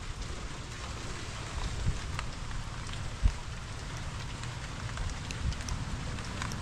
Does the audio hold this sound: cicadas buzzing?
no